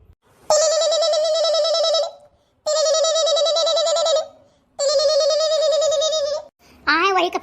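A phone rings in three long, evenly spaced trilling bursts, followed by a short electronic chirp.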